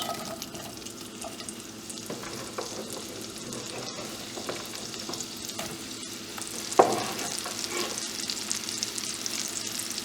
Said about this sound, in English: once you've got the oil up to temperature, you can go ahead and add the onions.